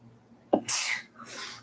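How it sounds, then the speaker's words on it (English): A single sharp sneeze with a quick inhaled lead-in and a breathy burst, followed by a softer exhale, close to the mic. "I have to sneeze again."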